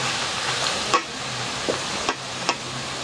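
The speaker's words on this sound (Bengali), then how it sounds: "লাল করে ভাজা নিলাম" Onions frying in a pan until reddish-brown, a steady soft sizzle with a few sharp stirring scrapes, close and without voices.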